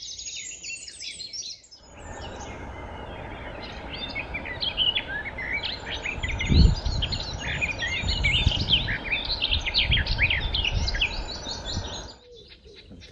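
Dawn chorus in Hembury woods in May, with wrens and crows among many overlapping birds, dense high chirping and trilling song over steady woodland ambience and a few low thumps.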